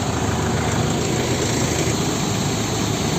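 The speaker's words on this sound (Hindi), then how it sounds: "अभी आपका पीटीओ पंप ऑन किया जा चुका है।" A Tankup bowser truck's engine runs with its PTO pump switched on, a loud, dense, unbroken mechanical roar and hum that stays constant throughout, with no speech.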